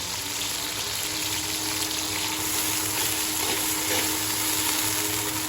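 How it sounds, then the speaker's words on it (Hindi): Onions frying in hot ghee for bhindi gosht give a steady, dense sizzle that holds evenly at moderate loudness throughout, with no voices. "अब हम इसमें डालते हैं प्याज। बिस्मिल्लाहिर्रहमानिर्रहीम। प्याज़ों को सुनहरा ब्राउन आने तक अच्छी तरह से इसमें फ्राई करेंगे हम।"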